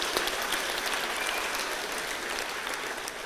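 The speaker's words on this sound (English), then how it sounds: "Let's give her a real round of applause." Steady applause from an audience at the opening ceremony of a 4-H youth gathering in Arkansas, dense and continuous for a few seconds, with no talk over it.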